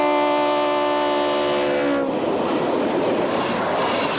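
A passenger train sounds its horn in a sustained tone for about two seconds, then the steady rumble and rush of the moving carriages carries on loud and close with no voices.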